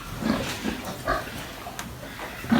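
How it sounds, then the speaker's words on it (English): On a livestock farm, a sow and her young piglets give soft grunts and short oinks close by, scattered over a few seconds amid low barn background noise. "And some lovely little young pigs."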